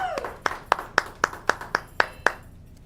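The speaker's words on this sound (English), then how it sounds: "Okay, a round of applause. We have Ruben TREVISIO here" Slow, evenly spaced hand claps, about nine sharp strikes roughly a quarter second apart from a small group welcoming a guest on a local talk show, fairly close and alone without talk.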